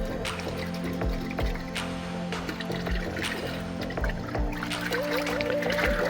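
Water being poured and mixed, twenty litres with amoxicillin powder for chicks, trickling and splashing steadily and fairly close with small drips, no talking.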